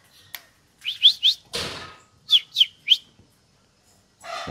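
A konin songbird kept without a female gives its ngobra display call: a few short, bright whistled chirps in pairs and triples, close and clear, with a rustle between them and no speech.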